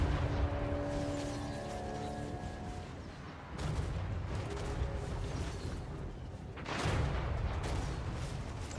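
Artillery fire in the Total War: Warhammer III battle game, a siege on a wall with undead legions, heavy booms and blasts rolling over continuous battle din, with sharp loud impacts around the middle and near the end.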